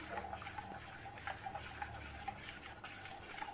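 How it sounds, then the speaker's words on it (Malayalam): Curdled milk being stirred in a pot, a quiet, steady swishing with soft wet scrapes and faint clinks from the spoon against the metal, close and low in level with no talk. "നല്ലോണം ഇളക്കി കൊടുക്കുക."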